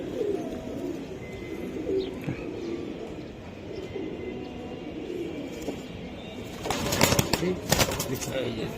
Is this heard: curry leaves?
no